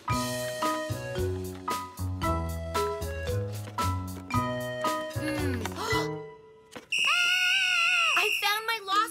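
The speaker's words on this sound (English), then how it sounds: "I found my lost whistle." Bouncy music plays in a children's cartoon, then stops, and a loud, shrill whistle blast holds steady for about two seconds, wavering slightly at the end.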